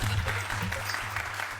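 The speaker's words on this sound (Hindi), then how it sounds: "भाई तालियां।" Applause at a meeting welcoming Jethalal on time, a dense burst of clapping from a group that holds steady throughout, with a low hum and faint chatter mixed underneath.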